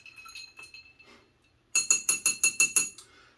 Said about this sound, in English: Give it a few spins. Let it move around a little bit. Get that ice working in there.